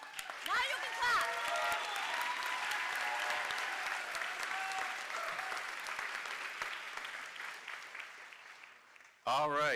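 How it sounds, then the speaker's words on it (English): Audience at a medical school commencement ceremony breaking into sustained applause, a dense wash of clapping that starts strongly and slowly fades, with a brief voice at the start and a speaker resuming at the end. "Now you can clap."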